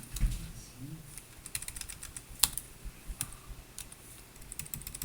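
Typing on a computer keyboard in a word-processing lesson: scattered soft key clicks at an uneven pace, fairly close but quiet, over a faint room hum.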